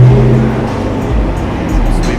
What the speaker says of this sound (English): Mopar's going by again.